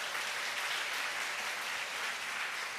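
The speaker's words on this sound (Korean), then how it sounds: "우리 박수 한번 쳐주길 바랍니다" A church congregation at a Friday worship service breaks into sustained applause, a steady dense wash of many hands clapping together with no voices on top.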